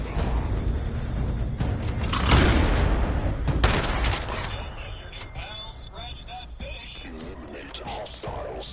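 Shotgun fire in the video game Fallout 76 comes as a dense burst of blasts mixed with booming game noise, then settles into rumbling, cluttered action sounds.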